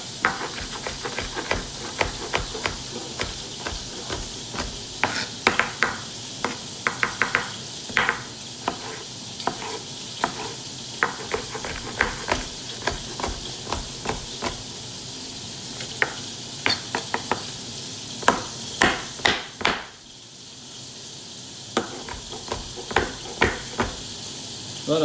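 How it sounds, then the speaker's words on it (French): Shallots soften and sizzle gently in a pan, a constant low frying hiss laced with frequent sharp clicks and knocks of utensils and chopping nearby, steady through most of the stretch. "on laisse fondre les échalotes"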